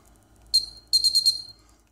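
High electronic beeps from an infrared-remote-controlled 60-LED RGB NeoPixel ring: one short tone, then a longer pulsing beep in four quick bursts, clear and close in a quiet room.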